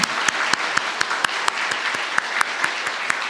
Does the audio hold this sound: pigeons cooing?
no